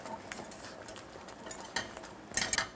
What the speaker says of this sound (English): And I can hear it simmering away in here. Give it another stir.